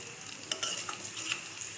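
Tempering (baghar) for karri pakora sizzling in hot oil, with onions and chilies, a steady close crackle broken by sharper pops and a few stirring scrapes, no voices.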